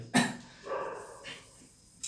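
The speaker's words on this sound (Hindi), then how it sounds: "बहुत सारे डॉगी भौंक रहे हैं ना" Several dogs bark at a distance in a few separate bursts, spaced out over a couple of seconds, with quieter gaps between them.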